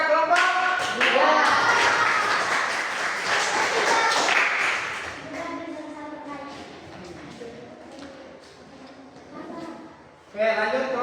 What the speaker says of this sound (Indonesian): Oke, kita beri aplaus kepada kelompok 2.